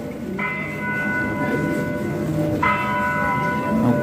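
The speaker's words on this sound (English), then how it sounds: "Church bells going." Church bells ring out in a town street, two clear strikes with long ringing tones over steady background traffic noise.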